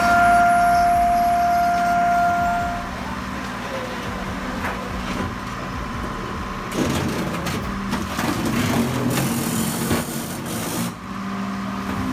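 A hydraulic car crusher presses scrap at 2,500 bar with a loud, sustained industrial roar, creaking and grinding metal, and a few louder crunching bursts toward the end, close and continuous.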